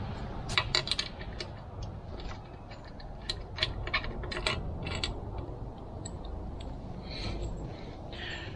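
Ratchet clicking while backing a bolt out of a Suzuki water pump during an impeller replacement, with bursts of quick metallic clicks close up, separated by pauses, over a faint background hum and no talking.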